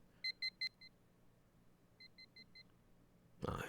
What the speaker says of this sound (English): On the table beside my bed is that damn alarm clock.